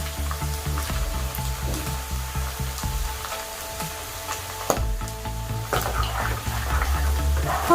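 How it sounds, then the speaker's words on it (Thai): Pieces of mackerel drop into hot oil and fry, giving a steady, loud sizzle throughout with a brief clatter partway and faint background music tones. "ปลาทู เอาชิ้นปลาที่เราทำไว้นะคะ ใส่ลงไปทอดค่ะ"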